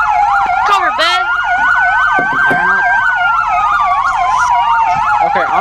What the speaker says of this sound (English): My headphones are literally blowing out because of all these sirens right now